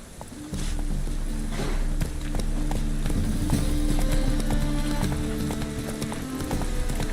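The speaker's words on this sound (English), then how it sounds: "Whoa there, Roach." Horse hooves clip-clop steadily at a gallop in the video game The Witcher 3: Wild Hunt, a loud continuous rhythmic pounding with game music and ambience underneath.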